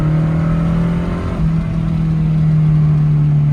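A Saab 900 Turbo engine drones steadily while driving, a loud, constant mid-pitched hum with a brief dip in tone partway through, heard from inside the car.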